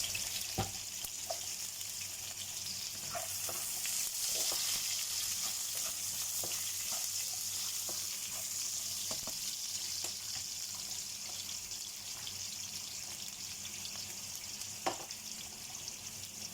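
Ginger and onion frying in a wok for an eggplant and coconut milk dish make a constant low sizzle, with occasional clicks from stirring and a sharper knock near the end, and nobody talking.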